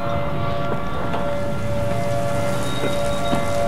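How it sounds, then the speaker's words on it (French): Dense, steady pattering of hail hammering on a car during a tornado near El Reno, Oklahoma, continuous and loud, with a faint siren-like whine underneath. "il y a la grêle qui arrive"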